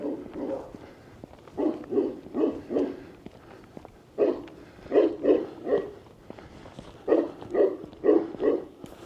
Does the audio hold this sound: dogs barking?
yes